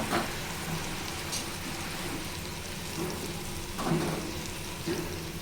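Sliced bitter gourd rounds frying uncovered in a pan with oil, a steady soft crackling hiss like light rain, with occasional brief louder bursts as the pieces are stirred.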